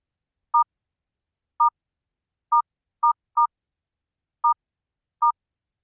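Seven short telephone keypad DTMF beeps enter a numeric password for a public hearing dial-in, spaced irregularly over silence, clear and isolated with no voices.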